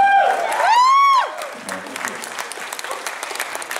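Convention panel audience applauding, a dense burst of clapping that swells and then tapers, with a voice talking over the start before the clapping thins out.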